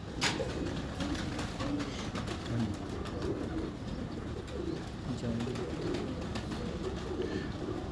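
Pigeons coo softly and repeatedly over a steady background murmur, with a sharp click near the start.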